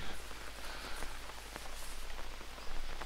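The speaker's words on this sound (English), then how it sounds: "Let me go a little bit into the rain." Steady rainfall in the jungle survival game Green Hell, a dense, even hiss of drops pattering on surfaces that holds at a constant level throughout, with no voices.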